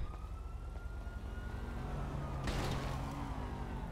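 Police car siren in the video game GTA Online, a wailing tone rising and falling under a continuous low engine rumble, with a short burst of noise partway through.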